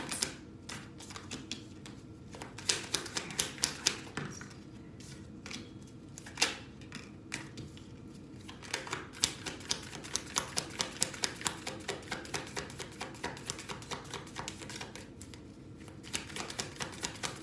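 A deck of tarot cards is shuffled up close, a long run of rapid riffling flutters and crisp snaps of card edges that keeps going steadily with short breaks.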